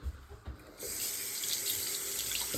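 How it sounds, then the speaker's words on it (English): Hands washed under a running tap in a house: after a few faint clunks, a steady close rush of water from the faucet flows continuously with light splashing, no talking. "I'm gonna wash my hand off."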